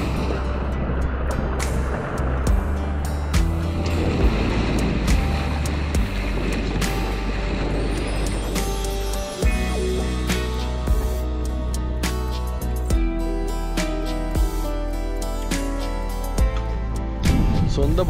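Rough, choppy sea washes and slaps around a sailing catamaran off Eski Foça, Izmir, heard as a loud, continuous rush of water and wind noise with occasional thumps from the hull, and no talking.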